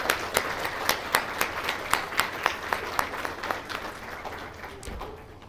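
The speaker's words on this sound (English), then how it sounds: "So let's just give her a warm round of applause for her mentorship." Applause from an award gala audience, led by a few distinct, regularly spaced loud claps over a softer crowd patter that gradually thins out.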